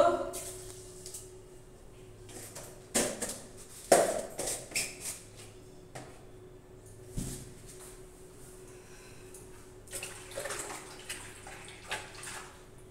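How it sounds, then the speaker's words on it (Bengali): Clothes being soaked in water in a household setting, with intermittent splashing and sloshing bursts as the fabric is pushed into water, fairly quiet overall with long calmer stretches between. "দেখো বন্ধুরা, এখন জামা কাপড়গুলো ভিজিয়ে দিচ্ছি।"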